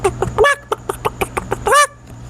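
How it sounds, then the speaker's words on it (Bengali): Chickens and a rooster squawk and cluck loudly in two harsh bursts at the start and end, with a run of short, evenly spaced clucks between them, all near and clear with no talking. "একটি মুরগি বা মোরগ যখন খাবার খাচ্ছে এবং একটি মোরগ একটি মুরগিকে তাড়া করছে"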